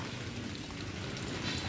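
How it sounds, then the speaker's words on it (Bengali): Light drizzling rain falling outdoors, a soft, steady, even hiss of fine drops with no distinct individual hits, heard alone. "এই দেখো, বৃষ্টি পড়ছে।"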